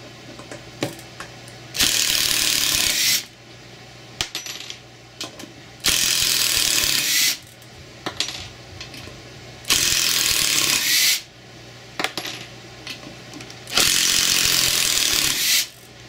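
Makita impact driver with Makita Impact X bits backing screws out, four loud, rapid hammering bursts of about a second and a half each, separated by short pauses with quieter handling noise.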